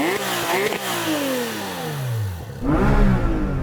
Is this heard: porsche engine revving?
yes